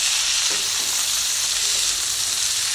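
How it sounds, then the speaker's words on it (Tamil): Onions and small tomatoes sauté in a pan for spicy peanut chutney, giving a steady, dense hiss of frying oil with a couple of soft stirring taps, no voices. "இப்போது நம்ம தக்காளி போடுறோம் தக்காளி வந்து சின்ன தக்காளி தான் ரெண்டு தக்காளி போடுறோம் இது நல்லா வதங்கணும்"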